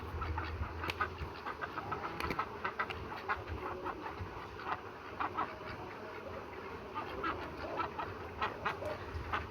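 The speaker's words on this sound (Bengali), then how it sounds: "আমার বেলজিয়াম হাঁস খাবার খুঁজতেছে।" Belgian ducks forage for food, giving faint scattered quacks and short calls at an uneven pace against a soft outdoor background.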